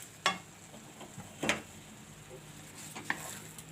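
A spoon stirs a thick coconut laddu mixture in a hot kadai, giving three soft, spaced scrapes against the metal in an otherwise quiet room.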